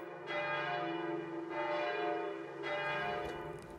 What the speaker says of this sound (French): ce tumulte de cloches et de sonneries